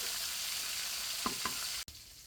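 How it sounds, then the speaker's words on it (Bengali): Tilapia fish heads fry in hot oil with a steady close sizzle, broken by two soft clanks of a utensil as the pieces are flipped, then a brief dropout before the sizzling resumes. "মাছটা একটা পাশ উল্টে দিচ্ছি, উল্টে দিয়ে ওই পাশটা ভেজে নিচ্ছি।"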